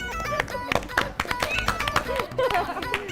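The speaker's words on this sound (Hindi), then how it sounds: "आप लोग अभी भी तालियां बजा रहे हैं निकलने के बाद" Studio audience clapping for the winner on a Pakistani TV competition show, a steady patter of many hands running throughout, close and fairly loud, with a voice speaking over it.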